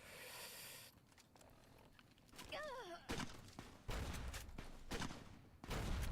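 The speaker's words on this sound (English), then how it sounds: "now I'm gonna use my grenade launcher" Grenade launcher fire in Fallout: New Vegas comes as several loud, sharp blasts in quick succession, with a warbling tone sweeping just before the bursts and quieter stretches between them.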